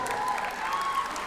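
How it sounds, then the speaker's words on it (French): An audience at a Japan Expo stage challenge applauds steadily, a dense continuous patter of clapping at moderate distance with no pauses. "on peut l'applaudir très fort"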